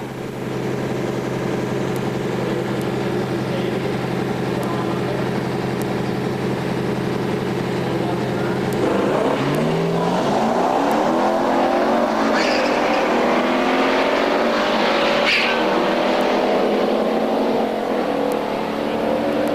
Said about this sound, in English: Pete Simpson's going to face off here in his ZL1 Camaro against Tim Clary's 70 Chevelle Supersport.